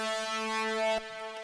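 A detuned saw wave from the Serum synth runs through distortion with no filter, giving a bright, buzzing sustained chord that cuts off abruptly after about a second, followed by a quieter tail.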